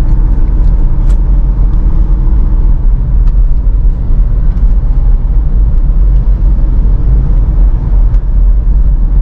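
Steady, loud low rumble of a 2012 Mitsubishi Pajero Sport Dakar SUV with a 178 HP engine cruising on a toll road, heard from inside the cabin as a continuous droning road and engine noise with no talk.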